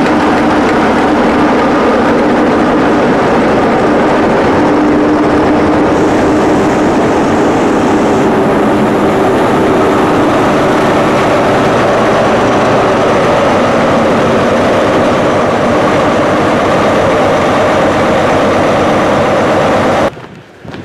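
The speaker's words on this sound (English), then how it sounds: "We're literally going to get on this Watford DC train. London Overground 378." A London Overground class 378 electric train hums and rumbles steadily for a long stretch, close and loud, with a faint rising whine before the sound cuts off abruptly.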